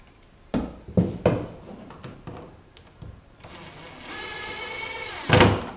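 An impact wrench with a 3/8 socket tightens hardware while an anchor trolley is fitted to a 2015 Hobie Outback kayak. A few sharp knocks come first, then a close, steady motor whir for about two seconds ending in a loud burst.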